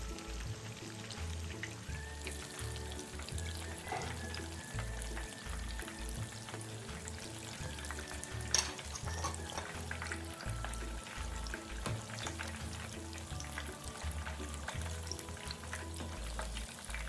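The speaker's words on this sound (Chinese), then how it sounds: "豆腐初下锅时，不要搅动，待豆腐油炸定型，底部呈金黄色后" Tofu meatballs deep-frying in oil with a continuous soft sizzle and bubbling, fairly close and steady, broken by an occasional sharp clink or scrape, with no one speaking.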